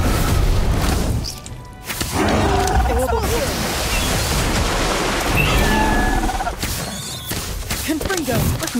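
Spell explosions and booming magic attacks in the Harry Potter Magic Awakened online duel game, loud continuous roaring blasts and crackling effects layered with game music, plus a brief dip before the barrage resumes.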